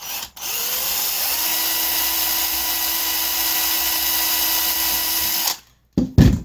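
A small power drill with a 1/16 bit whines steadily for about five seconds, boring through an airsoft pellet to make a plastic bead, then stops and gives a brief final burst.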